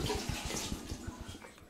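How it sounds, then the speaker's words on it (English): Japanese trapdoor toilet (kani suisen basic water wash) giving a short flush with a tiny cupful of blue-dyed water, heard as a brief, faint splashing gurgle close by. "I'm going to flush it now, put some blue sort of flush dye in there"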